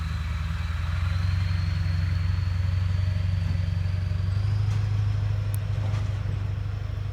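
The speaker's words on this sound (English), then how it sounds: "As that truck moves out of my ear sight." A truck drives past nearby with a loud, continuous low engine rumble that swells slightly and then begins to fade, with a faint high whine above it.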